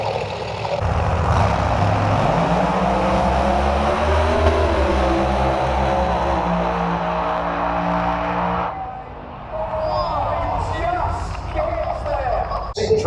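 Front-wheel drive drag race cars, a Ford against a Vauxhall, roar at full throttle with rising engine pitch, close and loud, then fade into crowd and track ambience.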